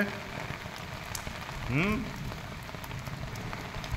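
Rain falls steadily outdoors while children bathe and play in it, a soft continuous patter with a brief higher child's cry or squeal rising partway through.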